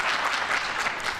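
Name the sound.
audience applause for aldermen at a press conference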